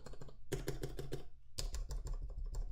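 Key presses on a custom mechanical keyboard with MX Clear switches and fitted stabilizers: two quick bursts of crisp, close clacking keystrokes in rapid rhythm, with no voices.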